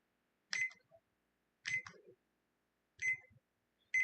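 A timer being set at a desk, short electronic beeps in three separate bursts about a second apart, faint and close with silence between.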